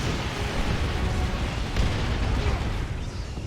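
Foot of Gork Ork ability in Warhammer 40,000: Dawn of War 2, landing as a heavy, sustained explosive rumble with booming bursts that fill the whole moment, loud and close.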